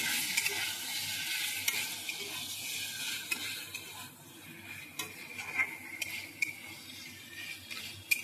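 Shelled peas sizzle and scrape as they are stirred in a pan with fish head and cabbage curry, a steady frying hiss with irregular spoon clicks, close and continuous.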